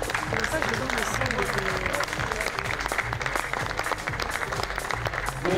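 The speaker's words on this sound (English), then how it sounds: "A welcoming round of applause there for Matteo Michel." Crowd applause at a youth lead climbing competition in Noumea, steady and dense throughout, mixed with a commentator talking over it.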